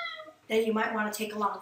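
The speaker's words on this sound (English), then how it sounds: "That was my cat." A house cat meows once, then a second time close by, both cries overlapping a person who keeps talking at normal volume.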